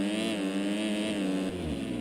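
Engines of a pack of motocross bikes at the start gate of a Supercross race in the MX Simulator video game: a dense, layered, sustained engine drone that holds steady, then shifts pitch near the end, loud and close.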